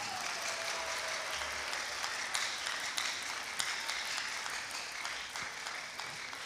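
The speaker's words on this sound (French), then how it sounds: "je vous prie de faire un méga d'applaudissements pour la présidente Valérie Dansou" An audience at a beauty pageant applauds steadily, a dense, even wash of clapping heard from a distance that holds throughout with a few louder claps standing out.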